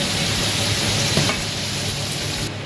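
Potatoes fry in hot oil in a wok, giving a loud, steady sizzle that hisses on without a break, with a faint scrape of stirring partway through.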